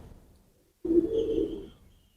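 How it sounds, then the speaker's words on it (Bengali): After a short silence, a male pigeon gives one close, low, throaty coo that swells and then fades away. "একটা মহেশ্বরী নর কবুতর দেখুন"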